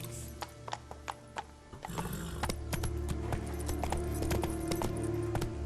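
Roach the horse galloping in The Witcher 3, a quick steady rhythm of clip-clopping hoofbeats, clear and close, with a brief whinny and soft jangling tack.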